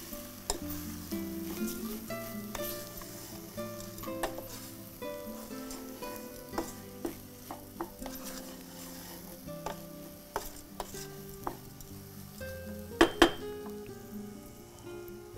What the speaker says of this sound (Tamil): சேர்த்து நல்லா வதக்கிக்கோங்க.